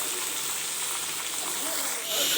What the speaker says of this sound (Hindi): आप देख सकते हैं 5 मिनट हो गए हैं मुझे इस तरह से फ्राई करते हुए